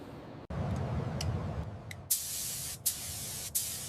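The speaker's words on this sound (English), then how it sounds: "Applying the clear coat now, aiming for that flawless high gloss finish across the entire hood" A spray gun lays clear coat across a Nissan GTR hood, a steady loud hiss that starts abruptly after a brief pause and runs continuously, brightening later with a few short breaks between passes.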